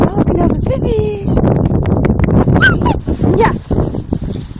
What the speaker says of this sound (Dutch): Oh, oh, knappe puppies!